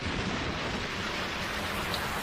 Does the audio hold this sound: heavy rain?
yes